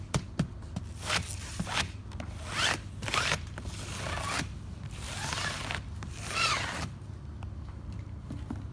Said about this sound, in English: we have to seal it with the aluminum tape just to avoid any condensation.